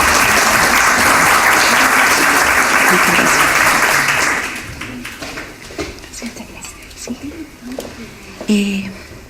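An audience claps loudly and steadily for about four seconds at a university colloquium event in Chile, then the applause thins to scattered claps, shuffling and faint murmuring.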